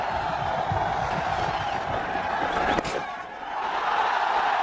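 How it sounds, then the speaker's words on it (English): A cricket stadium crowd roars steadily for a batsman's fifty during a 2009 India versus Bangladesh one-day international, a broad, continuous wash of distant cheering that dips briefly near the end. "Listen to the crowd."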